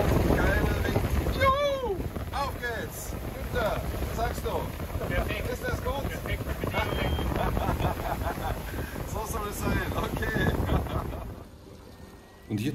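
Steady wind rushes over water while a sailing boat moves along off the Lofoten islands in Norway, with voices talking over the noise throughout; the sound drops away near the end.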